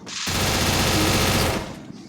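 Rapid automatic gunfire in a shooter video game roars in one sustained burst lasting over a second, then cuts off into quiet.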